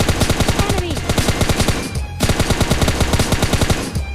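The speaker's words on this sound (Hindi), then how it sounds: "हमें आवाज आती है, गोलियों की एकदम तड़तड़ाहट रहती है।" Rapid automatic gunfire from PUBG Mobile Lite, dense bursts of loud rattling shots running almost continuously, with a short break before another sustained volley.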